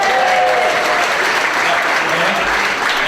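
A church congregation applauds in a steady, dense burst of clapping throughout, with a faint voice briefly audible beneath the applause.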